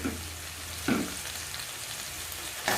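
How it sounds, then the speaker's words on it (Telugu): Green chillies and onion pieces hit hot oil, giving a steady sizzle that swells in two brief bursts as more pieces go in, heard close with no voices. "ఇప్పుడు దీంట్లో పచ్చిమిర్చి ఉల్లిపాయ ముక్కలు వేసుకోవాలన్నా"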